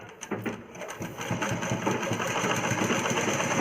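A sewing machine stitches fabric for a child's umbrella frock, its motor whirring into a fast continuous rattle of needle strokes that builds and holds, close and fairly loud.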